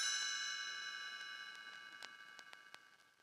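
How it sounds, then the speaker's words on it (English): A bright page-turn chime for a Gremlins read-along rings out and slowly fades, with a few soft ticking taps sounding as it decays. "You will know it is time to turn the page when you hear the chimes ring like this."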